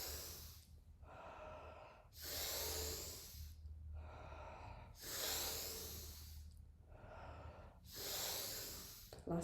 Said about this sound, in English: Last few together, breathing in